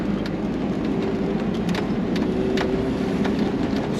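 A car drives up a farm driveway, with a steady, close interior rumble of engine and tyres rolling over the ground, plus faint clicks and rattles throughout.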